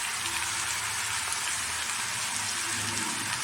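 Mangalore cucumber, peeled and seeded, fries in a pan with a steady, dense sizzle that stays loud and even throughout, with no talking.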